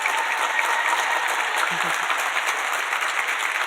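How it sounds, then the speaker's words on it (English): Audience at a youth tobacco prevention and cessation conference session giving a round of applause, even, sustained clapping throughout with a faint low voice briefly underneath. "If we could get another round of applause."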